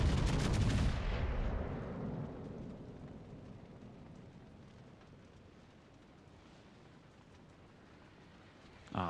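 A warship's heavy guns fire a loud, booming salvo in the naval battle game World of Warships: Legends; the blast rolls out and slowly decays into a long, fading rumble, with a brief sharp sound right at the end.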